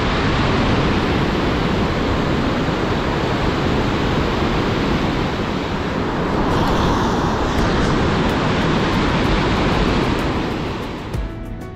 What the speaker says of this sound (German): Der 165 Meter hohe Lattefossen, ein Zwillingswasserfall.